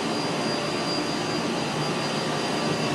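Steady broadband rush of exhaust air venting from the return end of a large rooftop HVAC unit on a commercial building, a continuous loud roar with no talk.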